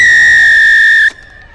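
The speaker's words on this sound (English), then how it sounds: "Shrill blast of the referee's whistle." A referee's shrill whistle opens a women's rugby match between Saracens Women and Sale Sharks Women, one loud, long, steady blast that stops abruptly and leaves quiet crowd ambience.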